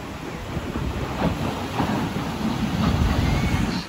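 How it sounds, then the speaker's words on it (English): Ocean waves wash onto a beach in a steady, rumbling surge, heard close with heavy wind buffeting the microphone and no speech. "I love the water, I love the beach"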